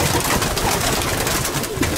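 Pigeon hens cooing in soft, overlapping calls at a pigeon show, against a steady, noisy background, with no clear talking.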